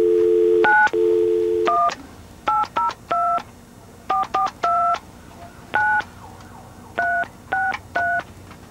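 Telephone keypad tones ring out clearly and close, beginning with two long steady beeps and followed by a series of short, evenly spaced dialing tones in small clusters, with no voices.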